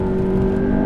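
A McLaren MP4-12C at full throttle gives a loud, close, sustained engine roar with a strong steady tone, heard alone for about a second.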